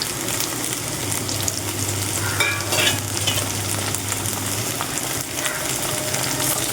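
Chopped tomatoes hitting hot oil with browned onions in a pan while cooking vendakkai puli kuzhambu, giving a steady close sizzle and frying hiss with light stirring scrapes and no talk.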